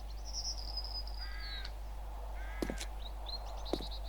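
Crows caw in the video game 7 Days To Die, several harsh calls spaced across a few seconds over a low steady hum, with higher whistling bird notes between them.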